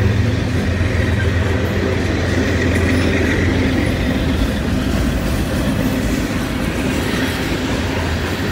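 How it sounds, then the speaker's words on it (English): A freight train rumbles past close by on the former B&O line on a sunny autumn day, a loud continuous roar of wheels on rails with rhythmic clatter throughout. "My first train of the day."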